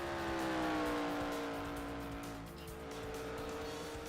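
Race car engines roar in a racing video game as the field accelerates off pit road, a loud sustained engine drone with a falling pitch sweep and faint tire squeal, no talk.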